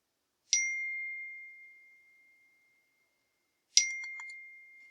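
A phone notification chime rings out twice, a few seconds apart, each a clear bright ding with a slowly fading tail in an otherwise quiet room.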